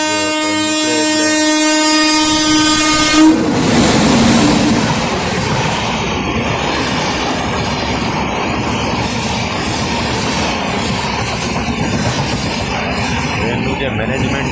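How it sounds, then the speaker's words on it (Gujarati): A train arrives at a railway crossing, opening with a loud sustained horn blast before the close, heavy rumble and clatter of the passing carriages takes over and continues steadily to the end. "મિત્રો સામેથી આ ટ્રેનનું ક્રોસિંગ હતું, ટ્રેન આવી ગઈ છે"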